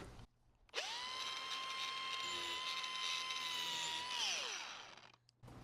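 A power carving grinder fitted with an orange wheel smooths wood, a steady close whine that holds for about four seconds, then winds down and stops.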